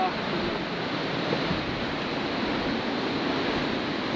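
Strong wind on the Api Base Camp trek blows in a steady, dense rushing roar that stays loud and even throughout.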